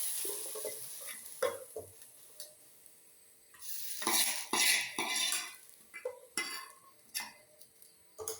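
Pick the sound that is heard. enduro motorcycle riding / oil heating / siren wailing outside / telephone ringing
oil heating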